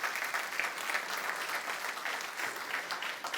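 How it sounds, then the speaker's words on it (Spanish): Church congregation applauding during a Spanish-language sermon, a steady, dense wash of clapping from many hands that holds evenly throughout without pause. "Denle una ofrenda de palmas a Dios."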